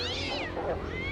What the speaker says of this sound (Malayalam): എന്റെ പൂച്ചക്കുട്ടി, എന്റെ പൂച്ചക്കുട്ടി.